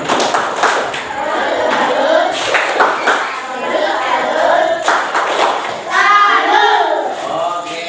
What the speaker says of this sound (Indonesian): Dan juga ada oke tepuk salut